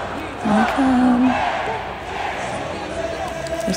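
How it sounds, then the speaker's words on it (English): Korean baseball fans at a KBO game cheering for LG, a broad roaring crowd wash with a rising chant-like swell early on, sustained and moderately loud throughout. "you'll hear them chant, the fans cheering for LG"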